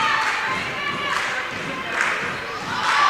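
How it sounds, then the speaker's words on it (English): High school volleyball crowd in a gym at a Loretto High School against Merrol Hyde Magnet match, a steady murmur of many voices with swelling cheers and shouts rising and falling, fairly loud and close. "So a pretty good crowd here for Loretto."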